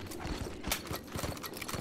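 Rapid horse hoofbeats clatter in a steady galloping rhythm, close and fairly loud, with the ambient backdrop of the video game Red Dead Revolver behind them.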